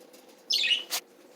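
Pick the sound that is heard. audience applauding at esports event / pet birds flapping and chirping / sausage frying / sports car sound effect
pet birds flapping and chirping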